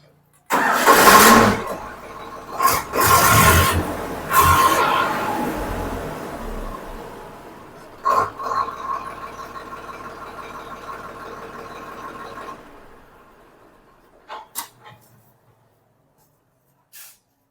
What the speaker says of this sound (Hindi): दोस्तों इंजन की फायरिंग और साउंड देखते हैं।